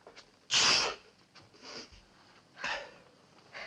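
A single sharp, loud sneeze bursts out close by, followed by a few softer breathy snorts and sniffs.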